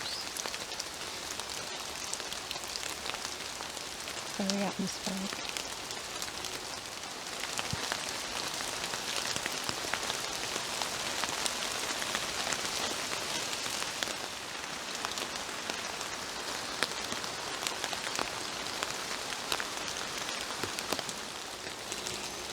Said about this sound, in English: All I can hear is the drips.